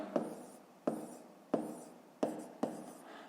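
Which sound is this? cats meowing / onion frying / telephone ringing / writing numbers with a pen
writing numbers with a pen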